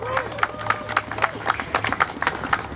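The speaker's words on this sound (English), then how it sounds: "can we give those folks a big round of applause?" Audience applause at a rally to stand with Siham, heard as regular, rhythmic hand claps from a crowd with a faint murmur and a low background hum underneath.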